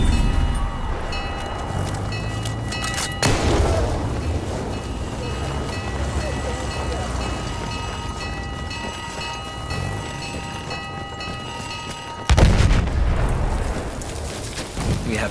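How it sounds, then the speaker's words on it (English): Enemy artillery barrage in the video game Rush, a sustained heavy rumble of blasts and roaring noise with sharp bursts near the start and end, loud and continuous. "Wait for the enemy artillery barrage to stop firing."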